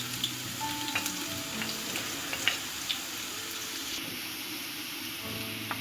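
Garlic sizzles in hot oil for sarson ka saag, a steady even crackle that is close and fairly loud throughout, with a faint stirring clatter and no voices.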